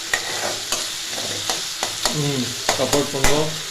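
Tomatoes sautéing in hot oil for a potato masala fry, a steady crackling sizzle broken by repeated sharp spoon-against-pan stirring clacks, close and fairly loud, no speech.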